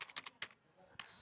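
Keystrokes on a computer keyboard while Python code for adding two numbers is typed, a quick cluster of clicks followed by a pause and a few more taps, close and fairly quiet.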